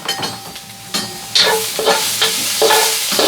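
Garlic hits a hot pan for sesame chicken and sizzles loudly. Close, bright bursts of frying swell and fade with the stirring, with no voices.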